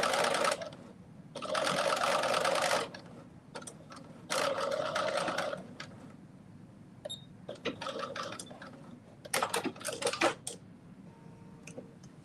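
A sewing machine stitches a seam on a McCalls 7757 garment, running in several loud bursts of rapid needle chatter separated by pauses with small clicks and handling sounds.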